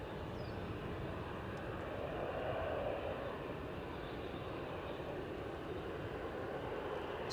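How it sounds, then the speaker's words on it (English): An airliner rotating on takeoff at Edinburgh on a near-empty positioning flight, heard as a steady broadband engine roar at middle distance that swells slightly mid-way and holds without a break. "Looking at the point of rotation there, that's got to be a positioning flight."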